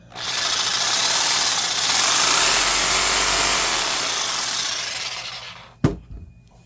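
Makita JR series reciprocating saw running steadily in a long continuous buzzing whir, loud and close, then cutting off with a sharp clack and brief rattle before silence.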